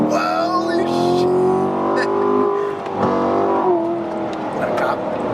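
A racing car's engine roars and accelerates inside the cabin, a loud steady drone with rising pitch, while excited voices talk over it.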